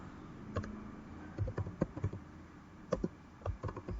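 Keystrokes on a computer keyboard while HTML code is entered: soft, irregular clicks and taps in small clusters, quiet and close, with no talking.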